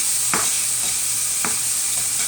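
Onions and ham fry in a pan for a ham and cheese omelette, giving a steady close sizzle with two or three sharp scrapes of a utensil stirring through the pan.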